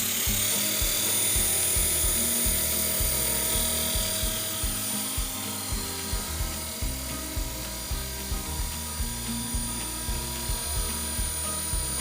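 An AS3 450-size RC helicopter engine throttles up, producing a steady, loud, close whine with a fast rhythmic mechanical chatter underneath and slight surges in level, with no voices.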